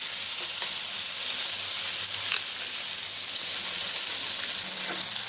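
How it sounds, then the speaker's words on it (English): Paneer sizzles in butter in a warm pan, a steady, bright frying hiss that holds at an even level throughout with no one talking. "We have added some butter to it. Adding the paneer to this."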